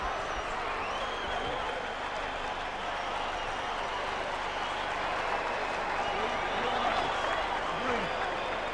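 Boxing arena crowd at Mike Tyson versus Kevin McBride, a continuous distant roar of applause and cheering that stays even and steady throughout.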